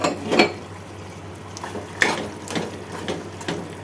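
Ground cumin and coriander powders get stirred into a potato and tomato curry in a pan, with a few scraping spoon strokes against metal over a faint sizzle.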